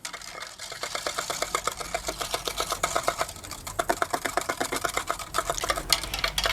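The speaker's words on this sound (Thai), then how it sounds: "ตอนนี้เราก็ผสมคนให้น้ำตาลละลายดีเลยครับ" Rapid, regular scraping and clinking as a utensil stirs briskly around a bowl to dissolve sugar into a batter for Thai coconut pancakes, a fast mechanical rhythm that continues without pause.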